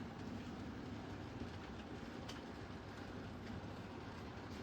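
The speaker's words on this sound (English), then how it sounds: "see how well the train copes with that particular piece of slightly dodgy track work" A Bachmann K3 model locomotive runs over slightly uneven model railway track, a faint continuous rolling rumble with a brief click partway through, quiet and steady throughout.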